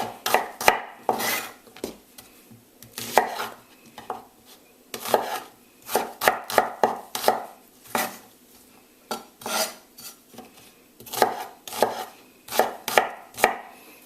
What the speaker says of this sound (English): Now with the onions, I'm just going to use this to line the bottom of the my roasting pan. So just give it a rough chop.